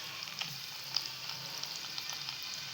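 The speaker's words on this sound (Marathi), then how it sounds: "त्यासाठी इथे आपण पनीर फ्राय करून घेतोय." Paneer coated in cornflour and chili powder fries in oil in a pan, giving a steady soft sizzle with small crackles and pops. It is quiet and close, and no one talks.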